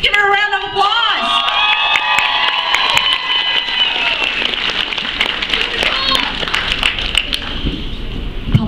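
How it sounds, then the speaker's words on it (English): At a cosplay masquerade at an anime convention, an audience cheers, whoops and applauds, with a dense and steady roar of clapping and shouts alongside some talk near the start. "Let's give her a round of applause!"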